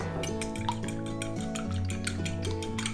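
Beaten egg is mixed in a bowl for a spanakopita egg wash, with quick, rhythmic clinking strokes of utensil against dish, close and steady, and no talking.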